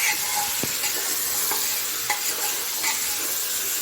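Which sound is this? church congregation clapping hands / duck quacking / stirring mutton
stirring mutton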